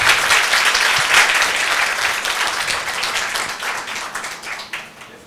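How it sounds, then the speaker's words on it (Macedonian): Steady, dense applause from a conference audience after an Angular libraries talk fills the whole stretch at moderate level, with no speech over it. "Голем аплауз прво."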